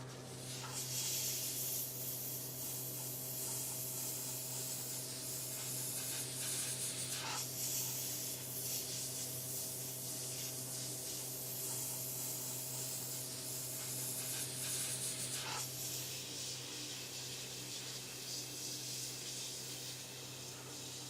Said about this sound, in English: it's kind of difficult to airbrush behind some of the objects that I've put on here